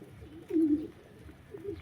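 A pigeon coos softly nearby, two low murmuring calls separated by a short pause over faint background hum.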